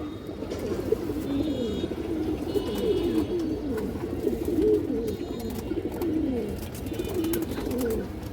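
Domestic flying pigeons coo in soft, repeated rolling phrases throughout, moderately close, over a low steady background hum.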